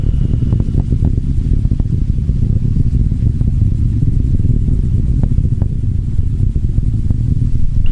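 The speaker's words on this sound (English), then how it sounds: "Vehicle is throttling back up to full thrust." Rocket engines of a Jupiter probe launch vehicle roar as it throttles back up to full thrust, a loud, steady low rumble with faint crackle throughout, no voices.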